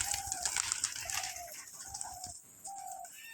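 Pigeons on a rooftop near a tree give soft, low cooing calls, several in a row with short gaps, fairly faint against a light outdoor background.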